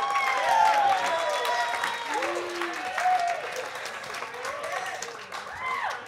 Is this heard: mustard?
no